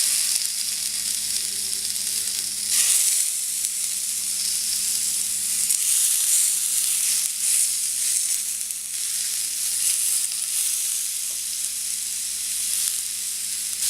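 Chicken tikka skewers sizzle and fry on an oiled tawa, a constant close crackling hiss that swells slightly at moments and runs on steadily with no talking.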